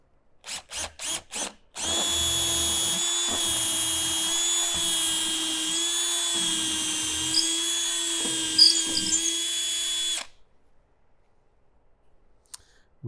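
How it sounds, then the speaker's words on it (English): Power drill boring holes for a knife handle: a few short trigger bursts, then a long steady high-pitched whine for about eight seconds that cuts off abruptly into near silence. "now we're going to drill out a hole in which we can sink in the handle."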